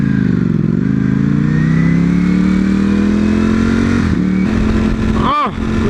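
A car engine revs loudly, rising steadily in pitch as it passes close by, then a quick shift and a sharp burst near the end, with a voice talking over it.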